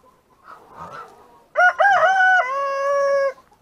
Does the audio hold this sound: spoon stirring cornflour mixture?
no